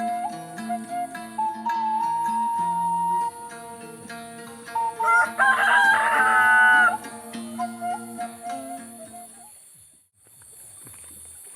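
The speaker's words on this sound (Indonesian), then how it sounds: "suara ayam jago kongkorongok nih" A rooster crows once, clearly, over music in a quiet countryside village. Background music plays throughout and a faint voice is present.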